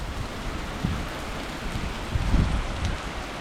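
Steady, dense rain pours down at night during a severe thunderstorm with a constant hiss, a low rumble rising briefly in the middle, no voices.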